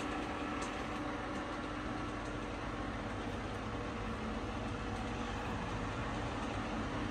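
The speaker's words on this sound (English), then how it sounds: "The spindle speed has been increased to 425 rpm." A Pinacho SP/250 metal lathe from Spain runs with its spindle at 425 rpm, giving a steady, dense mechanical drone and hum that stays constant and fairly faint throughout, with no speech.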